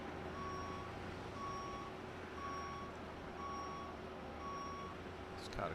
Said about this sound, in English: tow is driving up.